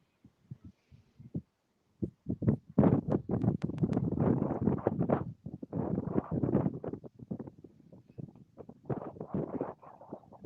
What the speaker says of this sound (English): the wind's definitely picked up here in the last 5 minutes